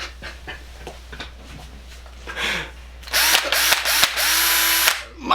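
A Makita power drill whines up in several short bursts after some faint clicks and handling sounds, then holds a loud steady spin near the end before winding down.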